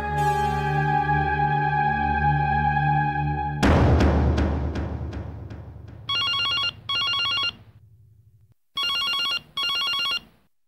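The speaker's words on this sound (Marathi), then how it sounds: "बाळ कधीपासून वाजतोय फोन?" A telephone in a household scene gives a sustained tone that decays into a chime. Two pairs of loud electronic rings follow, separated by a short pause, with no one speaking.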